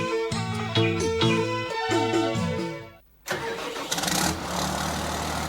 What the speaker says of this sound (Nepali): आइपुग्यो नेपालमा आइपुग्यो सोलिस ट्र्याक्टर।